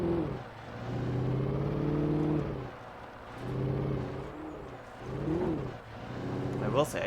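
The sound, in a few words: car engine in a video game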